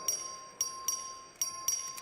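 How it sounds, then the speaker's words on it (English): Voting bell ringing in the Texas House chamber, with a steady electric tone and about five rhythmic strikes at roughly half-second intervals, close and fairly loud over room noise. "Clerk, ring the bell."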